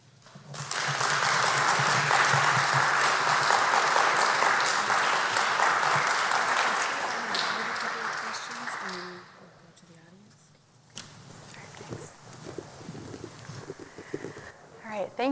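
Sustained applause from an audience honoring an ambassador at a University of Minnesota Humphrey Institute event on Somalia, loud and steady for about nine seconds before fading to scattered claps and murmuring voices.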